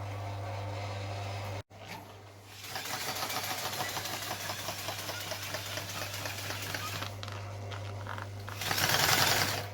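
A sewing machine stitches fabric for a homemade vehicle interior, running in a steady rapid mechanical whir for several seconds after a brief pause, close and fairly loud, with no talking.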